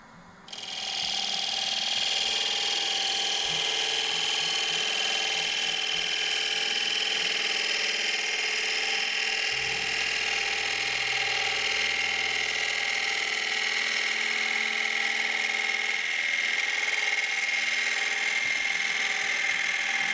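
A wooden salad bowl spins on a lathe while finer turning tools smooth the inside, giving a steady high whine and hiss that run continuously after a brief start, with a low rumble entering partway through.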